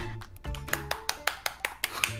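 A run of sharp, evenly spaced claps, about eight of them, sounds in a quick, steady rhythm. There is faint background noise and no one talks.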